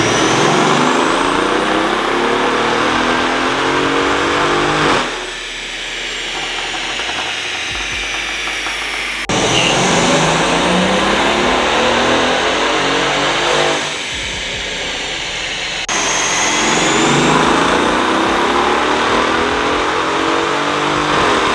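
A Mercedes-Benz CLS550 on a chassis dyno, engine revving hard through loud, sustained pulls on 93 octane, with brief drops to a lower drone between runs and a rising whine throughout.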